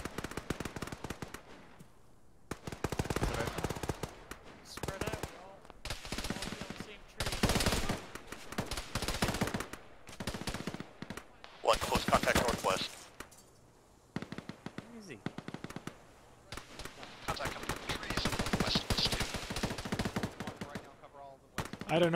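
Gunfire in the video game Arma rattles in repeated bursts, with loud automatic volleys and single cracks at varying distances, and players talk over the shooting.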